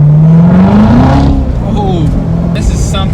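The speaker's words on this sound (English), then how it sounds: "Do a little downshift in action." A rebuilt 2017 Corvette Z06 engine revving during a downshift, a loud close rising drone heard from inside the car, with a voice speaking over it.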